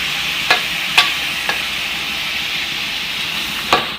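Pork with garlic stir-frying in a pan, a steady bright sizzle with a few sharp clacks of the spatula scraping the pan, close and alone without talk.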